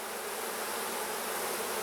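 Honey bees swarm around an open hive, making a dense, continuous buzzing hum that stays steady and moderately faint.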